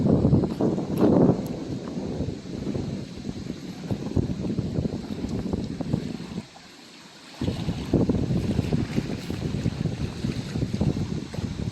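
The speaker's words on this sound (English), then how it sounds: "motorboats are allowed as one's coming in" A motorboat comes in across a lake lined with cottages, its engine a steady broadband rumble mixed with gusty wind buffeting the microphone, briefly dropping away before resuming.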